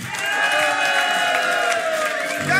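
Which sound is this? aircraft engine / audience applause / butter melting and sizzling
audience applause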